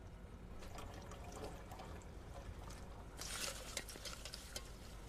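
A liquid mixture containing acetone is stirred and swirled along with matchbook material to separate red phosphorus, giving a steady wet swishing and clinking that grows brighter and busier near the end, with no talking.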